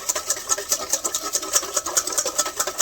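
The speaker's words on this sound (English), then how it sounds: "just whisk this up, create a nice little motion" A whisk beats a vinaigrette in a bowl, a fast, steady scraping and ticking rhythm of wire against the bowl, fairly close and continuous for a few seconds with no talk.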